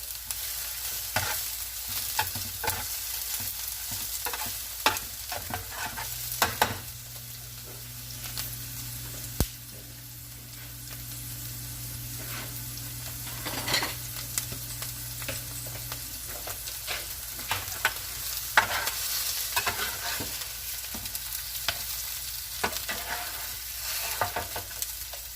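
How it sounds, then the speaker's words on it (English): Chuck pot roast searing in a very hot pan, a steady broadband sizzle running throughout with scattered clicks and scrapes of tongs or a utensil, and a low steady hum rising in the middle. "In order to sear, you have to have your pan very, very hot."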